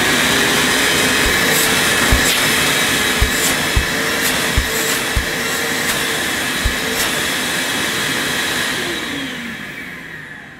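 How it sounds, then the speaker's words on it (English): A Vax HF1400 upright vacuum cleaner and carpet washer runs at full speed, a loud steady motor whine and rush of suction with a few faint clicks, winding down at the very end. "I'm just going to switch it on now at full speed and just feel how powerful the suction is."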